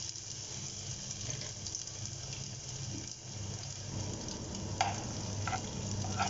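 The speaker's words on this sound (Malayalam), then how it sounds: "നമുക്കിതിലേക്ക് തേങ്ങാക്കൊത്തൊന്ന് ഇട്ടിട്ട് ഇതൊന്ന് വറുത്തെടുക്കാം" Coconut pieces fry in hot ghee for a green gram payasam, a constant close sizzle with a few faint stirring knocks near the end.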